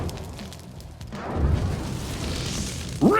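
A fiery Burning Blade attack from the Life is Strange True Colors game erupts in a broad, swelling whoosh-like roar that builds after a quiet start, then a sharp, loud burst near the end.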